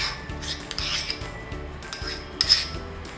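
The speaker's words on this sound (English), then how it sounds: "I'm going to keep blending the butter into the crumb until it becomes a coarse crumb mixture" Butter being blended into biscuit crumbs for a New York cheesecake crust in a bowl: repeated rhythmic scraping and rubbing strokes close up, with light clinks of a utensil against the dish.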